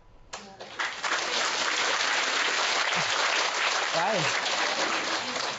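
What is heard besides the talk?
audience applause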